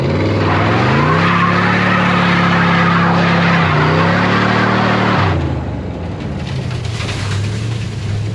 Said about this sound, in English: Should we do the first burnout with the new engine?